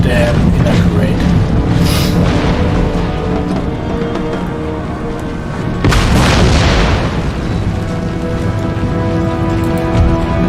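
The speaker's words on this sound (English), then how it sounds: "Howitzer fire is so damn inaccurate." Heavy booms from howitzer fire thud through a dense battle soundscape in Empire: Total War, with two stronger blasts standing out over constant rumbling noise and a voice talking.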